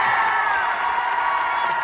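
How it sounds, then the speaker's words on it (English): At a state track meet award announcement, a large crowd cheers and shouts loudly and continuously, with whoops and children's voices mixed into a sustained roar. "I want you to listen to the crowd's reaction to when the second place person is announced first, and then Veronica is announced"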